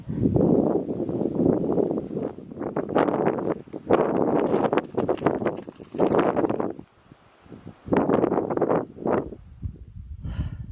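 Strong gusty wind buffets the microphone at a desert campsite near Page, roaring in loud, continuous waves with brief lulls and no talking.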